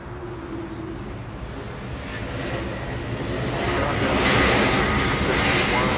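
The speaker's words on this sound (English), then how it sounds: "KLM Blue 777 lining up on 24 left" A KLM Boeing 777 jet airliner lining up on runway 24 left at Los Angeles International Airport, its engines a distant steady roar that slowly swells louder toward the end.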